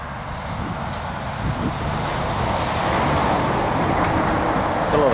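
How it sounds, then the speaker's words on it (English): Road traffic passing near an open field, a continuous rumble of cars and trucks at moderate distance that swells slightly toward the end, heard alone in the open air. "There's a lot of traffic on that road there."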